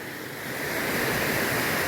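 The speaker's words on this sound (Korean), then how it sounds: "여러분 물소리 물소리 들리시죠?" Water rushes through a secluded mountain valley stream, a steady broadband flow that swells louder after the first half-second and continues alone without voices.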